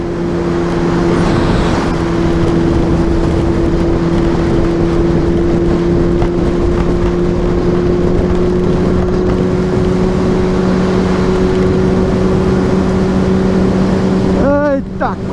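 Yamaha FZ6 motorcycle on a ride through Feira Nova, its engine droning steadily and loud with wind rush, pitch holding fairly even before a brief rising rev near the end.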